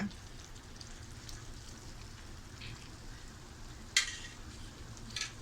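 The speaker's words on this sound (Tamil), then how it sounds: "இது நல்லா கொதிக்கட்டும்." Steady low bubbling and soft crackle of mushroom gravy simmering in a pan, continuous and close, with a couple of brief sharper clicks near the end.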